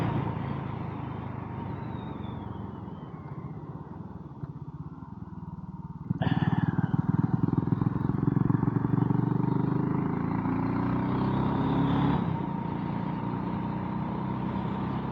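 Motorcycle riding on a road, giving a steady engine drone with rushing wind noise that grows louder partway through and then holds level, heard up close from the rider's position with no talking.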